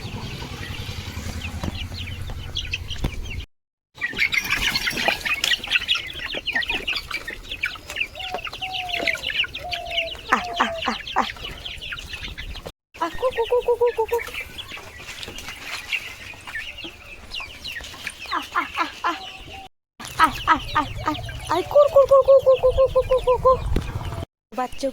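Hens and roosters in a Sundarbans village yard cluck and call as they are let out of their coop. Repeated close clucks and short squawks come in bursts across the whole stretch.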